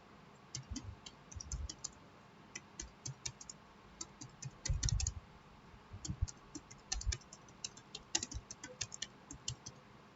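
A computer keyboard typing a caption in Tableau, rapid uneven clusters of light key clicks with brief pauses, close and moderately quiet, no voices.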